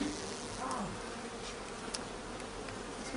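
Honeybees buzz around an open hive during an inspection. It is a dense, continuous hum, close and fairly quiet, with individual bees flying past now and then.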